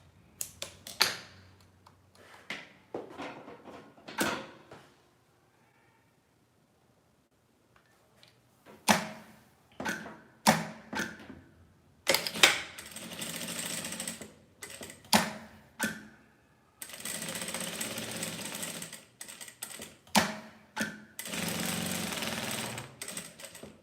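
A sewing machine stitches a 3D fabric face mask trimmed with lace and broderie anglaise, running in short rattling bursts and then longer steady runs, with pauses and clicks between them.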